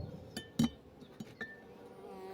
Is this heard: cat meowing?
no